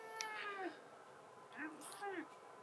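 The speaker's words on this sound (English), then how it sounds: "There's a cat yelling the whole time." A cat yowls repeatedly in a series of drawn-out, wavering meows, moderately near and fairly quiet, with pauses between cries.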